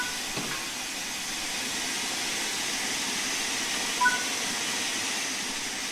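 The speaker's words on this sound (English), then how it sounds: "Open the cylinder cocks to remove any water from the cylinders after the locomotive has been left standing." Cylinder cocks on a steam locomotive in Train Sim World 4 vent with a steady, loud, broad hiss that runs unbroken from start to finish.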